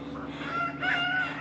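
Chickens clucking and a rooster crowing nearby in a homestead chicken coop, with a steady low hum running underneath.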